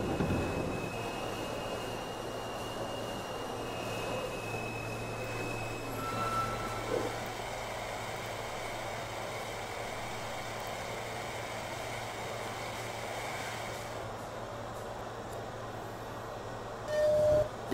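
NYC subway C local train running in Trainz Simulator 2012, a steady low rolling rumble with faint whining tones and brief squeals, moderately quiet throughout.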